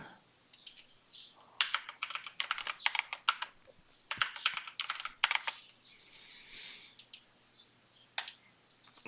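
Computer keyboard typed on in quick bursts of close, crisp key clicks with short pauses between them while a password is entered.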